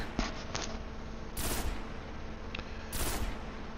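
Pulse rifle fired in Destiny during a stability test, short bursts of rapid shots repeating at intervals, sharp and close, over a steady low game ambience.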